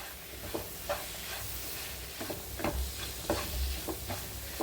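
Chicken with ginger-garlic paste sautés in an oily pan, a steady close sizzle broken by repeated scraping strokes of a spoon stirring the pieces at an uneven rhythm.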